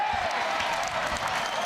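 A baseball crowd at a West Virginia vs Kansas college game reacts to a strikeout with steady applause and crowd noise that fills the stadium, sustained and fairly loud throughout.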